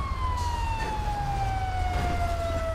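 A police car siren in the video game GTA 5 wails steadily with a slowly falling tone, loud and continuous over low engine rumble.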